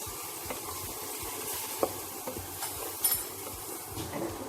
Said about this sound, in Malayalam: 1/2 ടീസ്പൂൺ മഞ്ഞൾപ്പൊടി, 1/2 ടീസ്പൂൺ മല്ലിപ്പൊടി, 1/2 ടീസ്പൂൺ ഗരം മസാല, ചെറിയ ഒരു തക്കാളി, ആവശ്യത്തിന് ഉപ്പ് ഇവ ചേർത്ത് ഇതിനെ വഴറ്റിയെടുക്കാം